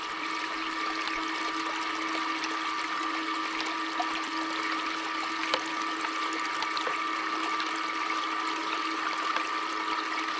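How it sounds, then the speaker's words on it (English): Water running through a Gold Hog multi sluice used for gold prospecting, a steady rushing and trickling flow with a faint pump-like hum, continuous and moderately loud, with no talking. "Okay, I've started up the water."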